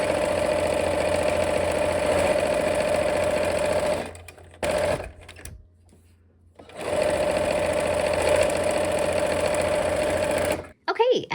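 A sewing machine stitching a patriotic quilt, running at a steady fast hum in two long bursts separated by a brief pause, with a short restart near the end.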